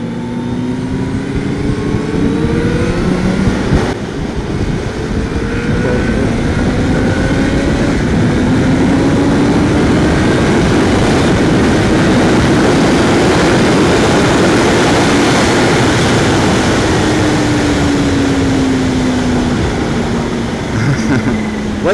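Kawasaki ZH2 supercharged motorcycle engine droning steadily while riding, loud and continuous with rising and falling engine tones and wind rush throughout, no talking.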